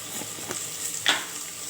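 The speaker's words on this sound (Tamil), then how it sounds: "இப்போ நல்லா வதக்கிட்டு உங்களுக்கு காமிக்கிறேன்" Coriander stems sauté in oil with salt in a pan for village-style urundai kuzhambu: a faint, steady sizzle with a few soft stirring scrapes and one sharper scrape near the end.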